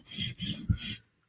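Knife steel rasping over a coarse sharpening stone in three long forward strokes while the bevel scratch pattern is cleaned up, each pass a bright gritty scrape, close and steady, then silence.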